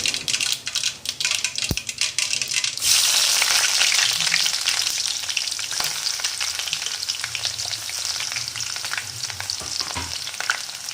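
Finely chopped onion drops into hot oil with mustard seeds for rava upma, bursting into a loud, steady sizzle that swells after a sharp clatter and continues with light stirring noises, no voices.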